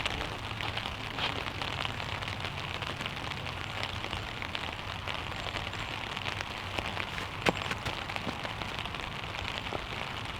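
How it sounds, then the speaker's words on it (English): Steady rain patters down across an outdoor golf course during a practice round, an even hiss throughout with one faint sharp tick, and no talking. "The rain sort of started to come down"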